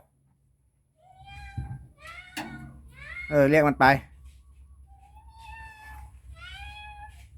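Cat meowing in a workshop, several drawn-out meows near the start and end, with a voice talking loudly in between.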